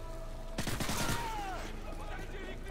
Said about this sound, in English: I think I just shot a prisoner.